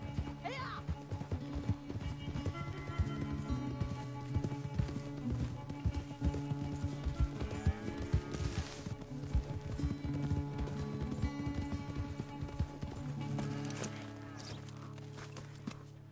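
Hooves of a galloping horse in Red Dead Redemption 2 clip-clop in a fast, steady rhythm through the whole stretch, close and fairly loud, with brief vocal bursts and a neigh-like sound along the way and game music beneath.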